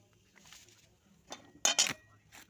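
A spoon clinks and scrapes against a pan while semolina is lightly dry-roasted for sooji kheer, a few quiet taps followed by a louder double clatter.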